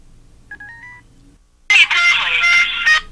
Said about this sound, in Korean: 몇 번 더 시도해 본 뒤 전화가 드디어 연결되었다